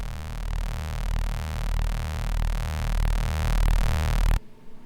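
Serum synth bass patch with distortion added, a thick buzzing low drone pulsing in a steady repeating rhythm with rich harmonics, loud and alone before cutting off abruptly near the end.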